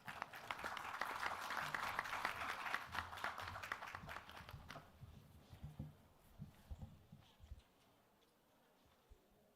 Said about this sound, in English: A big round of applause for our distinguished keynote speaker.